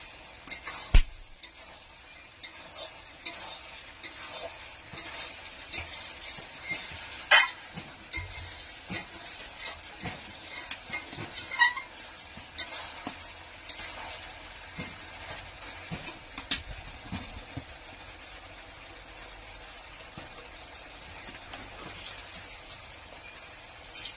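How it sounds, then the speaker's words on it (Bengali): Country chicken meat being sautéed and stirred in a pan in an Indian village kitchen, a steady soft sizzle with scattered scraping clicks from the spoon, moderately close and without talk. "কষছি মাংসটা।"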